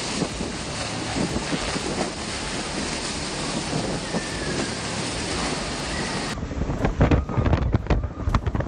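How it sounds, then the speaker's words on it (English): Howling typhoon-force gusts from Typhoon Krathon, winds near 140 km/h, roar loudly and continuously, battering the microphone, then turn more gusty and broken toward the end. "The wind speed reached nearly 140 kilometers per hour."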